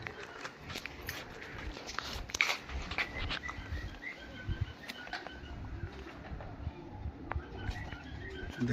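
A pigeon coos while held in the hand at a Dankuni pigeon sale, soft low coos and brief wing flutters close by over quiet background noise.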